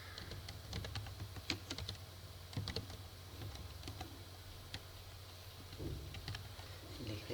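Quiet, close computer keyboard typing while entering a designation on a business card in CorelDRAW, irregular clusters of soft key clicks.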